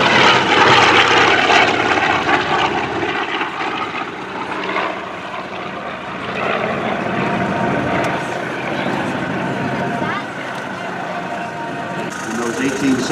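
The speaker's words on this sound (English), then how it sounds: "And the radial engine in the TBM Avenger" The 18-cylinder radial engine of a TBM Avenger warbird roars steadily and loudly as it rolls past in a 2015 Great New England Airshow parade, a rough, throbbing drone, with voices underneath.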